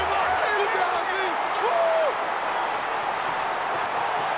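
Roaring stadium crowd at a college football video game on PS3, Duke Blue Devils against Alabama Crimson Tide, a steady loud wash of cheering with faint whistles rising and falling throughout.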